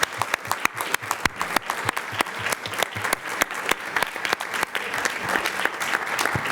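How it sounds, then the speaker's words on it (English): An audience at a school board meeting claps in sustained applause, dense and even throughout, with a few louder individual claps standing out. "we'd all like to give you a round of applause"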